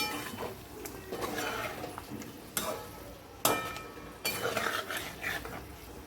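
Yogurt being stirred into egg biryani masala in a pan, a spoon scraping and clinking against the metal with several sharper knocks, over a faint sizzle and with no talking.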